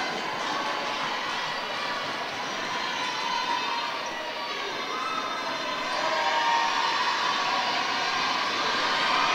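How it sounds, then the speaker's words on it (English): Loud basketball crowd noise at a college game between NJCU and Kean, a dense steady roar of voices that swells slightly toward the end. "Second shot here with the crowd getting loud"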